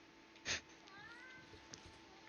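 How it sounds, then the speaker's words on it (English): A cat gives one short, clear meow near the start, followed by quieter faint sounds over a low, steady background hum. "Hi, kitty cat."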